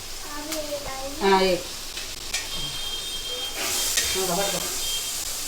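Small fish fry in a pan with a steady hissing sizzle close by. Voices talk over it in short bursts.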